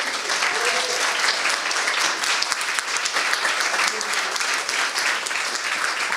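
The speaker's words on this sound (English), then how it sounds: "First round of applause for our new folks." An audience claps steadily for a few seconds to welcome new participants at a kickoff event, a dense, loud, even wash of applause with no voices on top.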